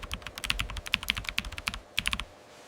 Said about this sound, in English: hacker typing on a computer